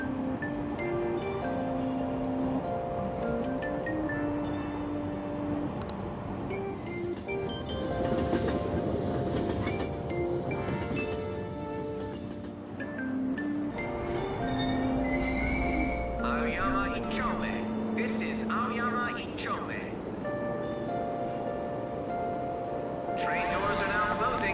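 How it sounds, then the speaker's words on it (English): A train running in the game Persona 5, steady rolling rumble with squeals and clanks, a chime-like musical tone sequence and a voice talking over it throughout. "Train doors are now closing. Please stand back."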